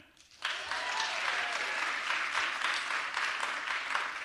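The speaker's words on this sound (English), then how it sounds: "Clap if you're charismatic" Following a short quiet moment, an audience at an evening talk event bursts into clapping that stays full and steady for several seconds, many hands at once filling the hall.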